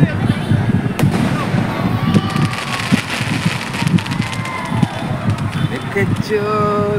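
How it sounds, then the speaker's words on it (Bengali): Fireworks go off during a Holika Dahan celebration outdoors, with sharp cracks and whistling rockets over a busy crowd murmur, loud and nearby with a steady rumble underneath. "এই শুরু হলো আতশবাজির খেলা।"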